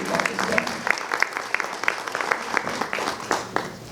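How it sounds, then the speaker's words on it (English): Audience applause at a school board candidates' meeting, a steady patter of many hands clapping across the room with sharp individual claps standing out, moderately loud and continuous throughout. "let's give these guys a round of applause"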